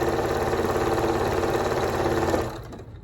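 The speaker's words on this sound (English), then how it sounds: "So this is how you would sew the 2 strips together." A sewing machine runs steadily, stitching two quilt strips together for a star-spangled wall hanging, giving a fast, even mechanical whirr up close that stops abruptly near the end.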